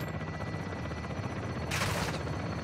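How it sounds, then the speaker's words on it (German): Gunfire from the video game Call of Duty Modern Warfare 2 (2022), a steady rattle of shots under a continuous din, swelling into a brighter, harsher burst about two-thirds of the way through. "Ziel erfasst, Schüsse abgefeuert."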